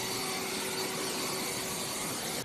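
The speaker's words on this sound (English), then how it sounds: "Next up, we have the Ego 530 CFM 110 mile per hour blower." An Ego 530 CFM, 110 mph battery leaf blower runs at full power, a loud, steady roaring whoosh of air with a high motor whine that cuts off abruptly at the end.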